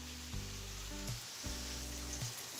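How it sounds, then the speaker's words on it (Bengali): Ginger garlic paste fries in a pan for a shrimp and spinach curry, with a steady broadband sizzle throughout and two bursts of low stirring or scraping rumble, no voices. "আদা রসুনের পেস্টটা ভাজা হয়ে গেছে।"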